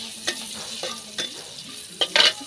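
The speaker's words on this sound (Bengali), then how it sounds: "কিন্তু ভালোভাবে ভাজতে হবে যেন গন্ধটা চলে যায়।" Onion and garlic fry in a pan for a dried fermented fish mash, with a soft continuous sizzle under repeated scraping stirs of a spatula, ending in a louder clatter of utensil against pan.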